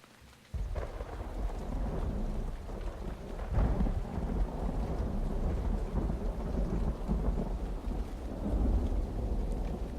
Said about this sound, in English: Rain has been added to Relto.